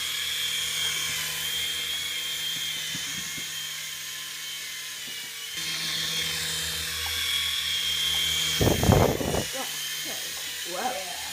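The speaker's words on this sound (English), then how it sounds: "I am going to be flying the Black Ops Black Hawk by Ignite." Remote-control Black Ops Black Hawk helicopter by Ignite flying close by, its steady high-pitched rotor and motor whine running throughout, with a louder burst near the end as it comes in to land; voices talk over it.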